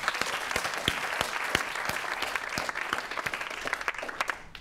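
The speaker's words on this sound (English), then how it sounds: "It's always good to get a round of applause in before you start speaking" A conference audience applauds a speaker's welcome, a steady dense clapping that holds for several seconds before tapering off, with no speech over it.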